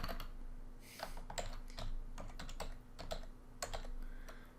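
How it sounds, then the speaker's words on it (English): Rapid, uneven typing on a computer keyboard, a steady stream of close, crisp key clicks with a low electrical hum beneath and no talking. "Sorry, bad typing skills there."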